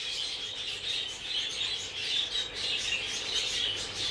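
Steady high-pitched chirping from a flock of Bengalese finches, continuous and overlapping, at moderate distance with no voices.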